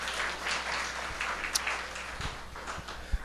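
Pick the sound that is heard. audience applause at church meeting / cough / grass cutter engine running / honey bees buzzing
audience applause at church meeting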